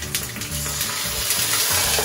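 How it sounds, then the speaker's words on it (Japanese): A fried egg steams under a lid after a splash of water is added, giving a steady, busy sizzle with crackling pops that runs continuously and fairly close. "これで蒸し焼きにしていきます。"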